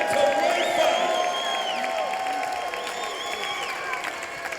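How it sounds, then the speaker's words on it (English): A crowd at a women's bantamweight fight applauds and cheers after the bout, with scattered whoops and shouts over steady clapping, all beneath a continuous tone. "come on, one more round of applause for a great bantamweight fight"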